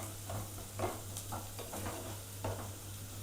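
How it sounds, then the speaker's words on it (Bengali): Onion and garlic fry in a pan while a spoon stirs them, giving soft sizzling with scraping strokes every half second or so, quiet and close with a steady low hum behind. "এইটা একটু 1 থেকে 2 মিনিট একটু ভাজবো আমি।"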